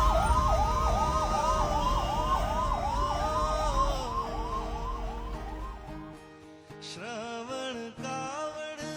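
An ambulance siren wails in a rapid repeating rise-and-fall pattern, loud and near with traffic rumble underneath, then shifts to a different, broken tone as it moves off.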